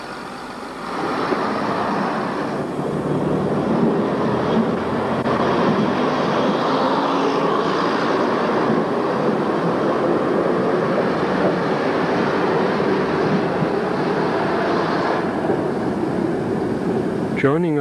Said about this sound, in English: Joining our diesel multiple unit, or DMU for short, we leave Whitby town station